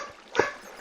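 A single short dog bark or yip, a bit distant, rising briefly out of quiet background.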